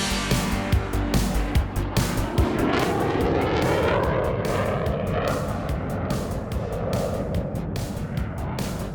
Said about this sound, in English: We taxied to position ourselves on the runway and we began our takeoff run.